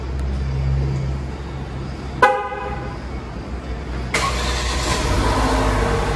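A white 2022 Jeep Compass Série S Flex turbo, started by remote start: a short horn chirp, then the engine fires a couple of seconds later and settles into a steady, fairly quiet idle.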